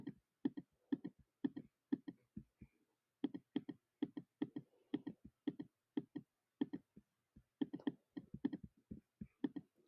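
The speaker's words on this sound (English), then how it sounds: "I'm just clicking right now." Rapid mouse clicks while filling out a Google Form, dozens of sharp close ticks in quick irregular bursts with short pauses, heard alone.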